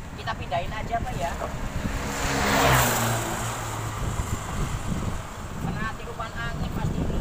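Strong wind buffeting an outdoor microphone near a toppled roadside billboard, a loud continuous roar and rumble with a gust swelling midway, while people talk underneath.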